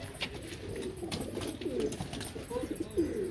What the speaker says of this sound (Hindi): ये देखें जी फैंसी बेबी पिजन